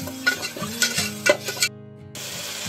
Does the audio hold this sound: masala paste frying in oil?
yes